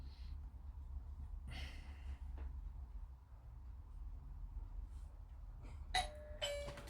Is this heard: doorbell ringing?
yes